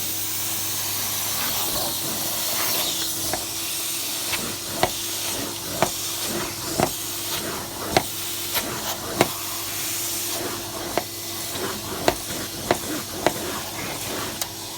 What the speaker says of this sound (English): Sorry for the noise because the machine's going.